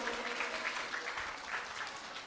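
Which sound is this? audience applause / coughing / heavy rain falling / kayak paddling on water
audience applause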